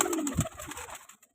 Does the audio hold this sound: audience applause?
no